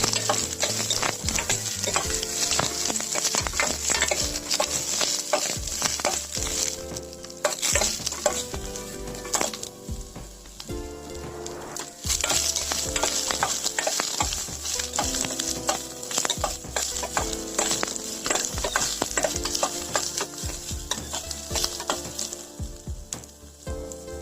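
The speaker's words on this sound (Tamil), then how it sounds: "வெங்காயம் நறுக்கி வச்சிருந்த வெங்காயம் போட்டுக்கலாம். நல்லா வதக்கிடுங்க." Chopped onions sizzle steadily in a hot pan over high flame for tomato curry, with a spatula scraping and stirring through the frying now and then.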